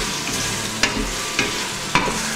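Tomatoes sizzle steadily in a hot pan for Maltese kusksu soup, a close continuous frying hiss broken by a few soft stirring scrapes.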